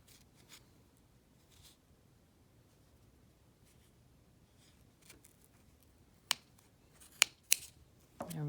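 Scissors snip through yarn wound on a pom-pom maker. After a long near-silent stretch, a few quiet, sharp cuts sound close by.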